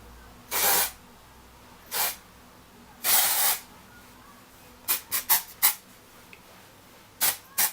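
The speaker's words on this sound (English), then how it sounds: "one last shot of hairspray, just to hold it all in place" Aerosol hairspray hisses in repeated bursts, a few longer sprays then several quick short puffs, close and loud against a quiet background.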